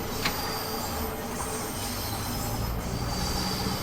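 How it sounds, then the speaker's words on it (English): London Underground Bakerloo Line train in Train Sim World 2, a steady low rumble of rolling stock with wheel squeal and rail noise sustained throughout, moderately loud and continuous with no talking. "There's another train on another platform."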